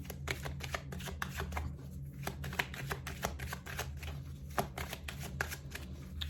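Tarot cards are shuffled by hand in a quiet room, a rapid run of soft riffling flicks and taps in an uneven rhythm, close and fairly faint, with no one speaking.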